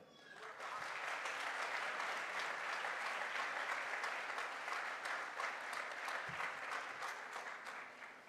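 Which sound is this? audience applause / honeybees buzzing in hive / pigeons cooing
audience applause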